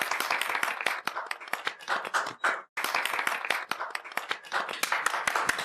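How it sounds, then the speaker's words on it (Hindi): An audience claps for a woman being honoured by a women's association, a dense burst of many hands that stops abruptly, pauses for a split second, then resumes just as full. "तालियां।"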